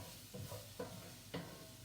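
Onions sautéing over high heat in a hot pan, a low steady sizzle with three soft wooden-spoon stirs, close but faint and brief.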